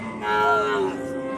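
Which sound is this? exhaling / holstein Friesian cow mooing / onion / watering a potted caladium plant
holstein Friesian cow mooing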